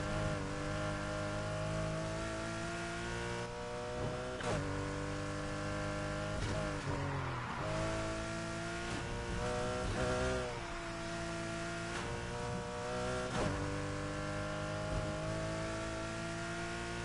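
Racing car engine in Need For Speed Heat, loud and continuous, revving with rising and falling pitch through gear shifts and a nitrous boost surge near the end.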